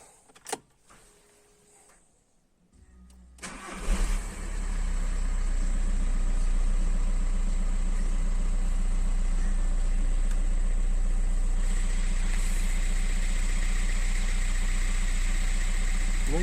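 After some quiet clicks and rustling, a Skoda Octavia A5 1.9 TDI diesel engine cranks and catches, then settles into a loud, steady rumbling idle that continues to the end; a noise near the alternator belt is present.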